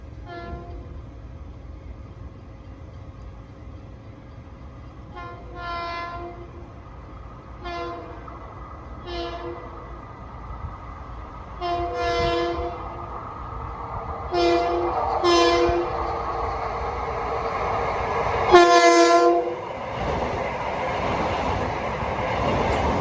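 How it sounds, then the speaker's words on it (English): A westbound Long Island Rail Road equipment train approaches on the Ronkonkoma line near a town full of grade crossings, sounding repeated loud horn blasts over a rising rumble of wheels and engine. "we got a westbound equipment train approaching"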